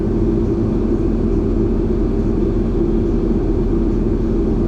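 A 2000 Jeep Grand Cherokee with a 4.0 L engine held at about 2,500 RPM, a loud steady hum with even rumble, recorded close and running smoothly without voices.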